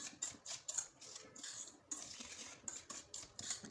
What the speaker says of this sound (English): Mix everything together until it is well combined.